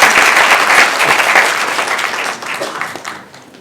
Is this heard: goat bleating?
no